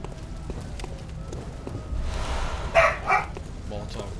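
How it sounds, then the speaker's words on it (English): A pet dog barks twice near the end, loud and close, over a steady background of game or television sound. "Sorry about my dog."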